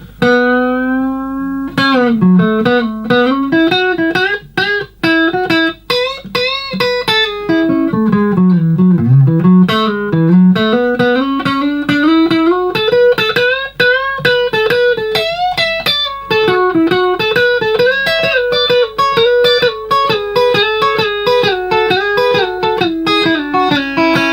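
A distorted electric guitar plays a fast, continuous solo, bending, sliding notes, loud and upfront with nothing else heard.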